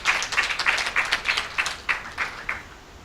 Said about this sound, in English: Can we give a second round of applause?